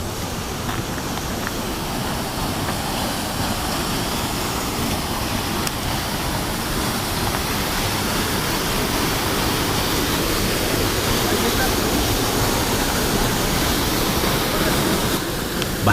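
The Salto de la Golondrina waterfall near Cafayate, a tall fall with a heavy flow, roars as a loud, unbroken rushing wash of water close by, steady for the whole stretch with no voices.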